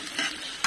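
Small garlic cloves frying in a pan and being stirred, a continuous bright sizzle with a couple of scraping stir strokes, close and alone.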